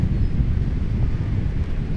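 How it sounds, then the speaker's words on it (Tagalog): Steady wind gusting across a sandy beach, a broad low rumble buffeting the microphone continuously with no pauses, close and fairly loud. "mahangin guys"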